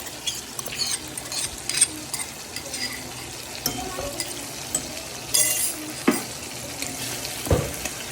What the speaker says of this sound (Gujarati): આપણે આની અંદર લસણ અને મરચાં ખાંડીને રાખ્યા હતા તો એ નાખી દઈશું